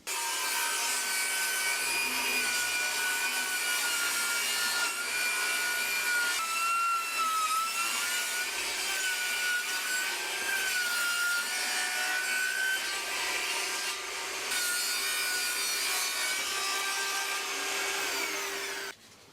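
A saw rips a board lengthwise into strips, a loud continuous cutting whine with a wavering pitch that holds for about nineteen seconds before stopping abruptly, no talking.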